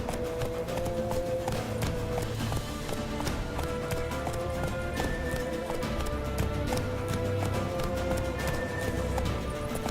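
Roach, the horse in The Witcher 3, trots with a steady, rapid clip-clop of hooves at close range over a continuous game ambience, with a faint voice now and then.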